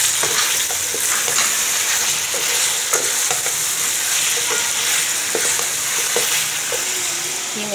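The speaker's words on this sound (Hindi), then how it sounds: "चिकन को हम अच्छा सा फ्राई कर लेंगे।" Chicken pieces fry in a hot pan for a vegetable and chicken biryani, a steady loud sizzle broken by repeated scraping stirs of a spoon against the pan.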